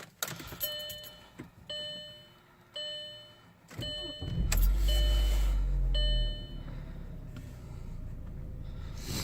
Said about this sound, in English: We'll now go ahead and start the vehicle up.